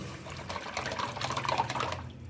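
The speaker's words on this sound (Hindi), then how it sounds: "अब मैं डालने लगी दही और बेसन" A yogurt and gram flour mixture pours into a kadhi pot, a soft liquid splashing and gurgling that swells, then trails off at the end, fairly quiet, with no voices.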